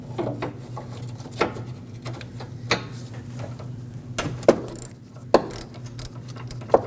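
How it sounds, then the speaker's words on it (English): On a 2005-2021 Nissan Frontier with the 2.5L four-cylinder, a 24mm socket unthreads the AC pressure switch, giving close metallic clicks and scrapes at irregular intervals over a low steady hum. "Now use a 24mm socket and unthread the sensor."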